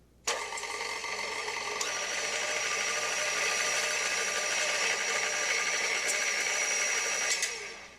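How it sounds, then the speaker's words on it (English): An electric mixer runs on low through dry cake ingredients for a pineapple upside-down cake. Its steady whirring motor hum starts abruptly, holds evenly for about seven seconds, then cuts off. "now I'm just going to mix these dry ingredients on low for about a minute"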